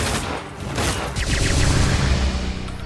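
Rapid gunfire from the Silent Bullet attack in a Digimon Story: Cyber Sleuth battle, a dense, loud barrage of overlapping shots that keeps going for about three seconds with no talking.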